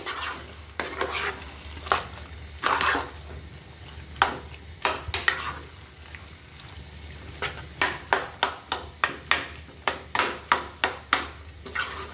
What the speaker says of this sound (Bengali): আমি নাড়িয়ে খুব ভালোভাবে আরও ভালোভাবে আমি ম্যাশ করে নিচ্ছি